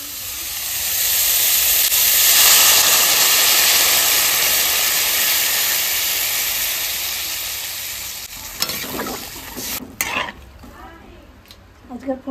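Water poured into a pan of frying cauliflower and potato curry with turmeric sets off a loud, sustained sizzle and steamy hiss that slowly fades over several seconds, followed by a few stirring clatters and brief speech.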